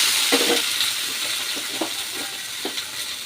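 Tomatoes frying in a pan for hotel-style tomato chutney, giving a steady broadband sizzle with scattered soft clinks and stirring taps, close and continuous.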